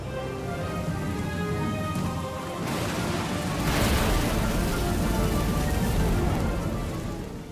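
Steady, dense rain falls in a fantasy drama scene, a constant hiss that swells louder midway and stays heavy, with a low rumble underneath and no voices.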